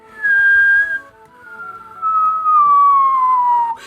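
A voice imitates a strange whistling noise, a single drawn-out tone that slides slowly downward, breaking off briefly before resuming and holding loudly to the end.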